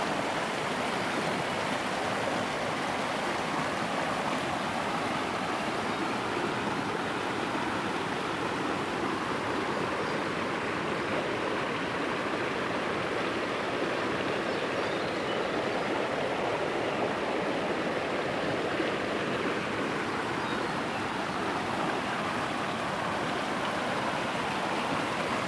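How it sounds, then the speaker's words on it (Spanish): Continuous rushing of flowing river water, a steady broadband roar with no pauses, moderately loud and fairly close. "ahí está el río"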